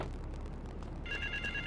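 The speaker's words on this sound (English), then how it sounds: "Get to the payphone." A payphone rings in GTA III, a steady electronic trill starting partway through over a low ambient city hum, fairly faint and without speech.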